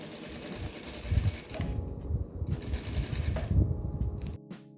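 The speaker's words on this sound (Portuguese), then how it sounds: "Aí, vamos costurar aqui, na parte de baixo e na parte do lado." A sewing machine stitches plastic sheeting for a baby clothes organizer, its motor whirring in steady close bursts with brief pauses between runs, and no one talking.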